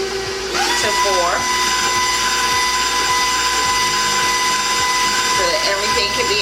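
An electric mixer on a low stir whirs steadily through vanilla cupcake batter, a continuous mechanical hum starting after a brief pause and running throughout beneath a person talking.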